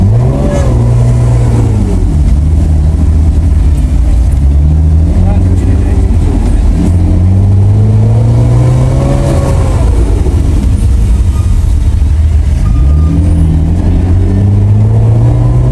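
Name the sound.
BMW E46 straight-piped exhaust engine revving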